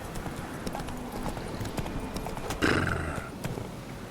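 Hooves of a horse clip-clop at a steady trot in The Witcher 3: Wild Hunt, close and continuous over a low background, with a brief whinny and a louder burst partway through.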